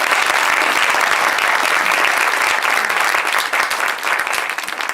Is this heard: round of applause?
yes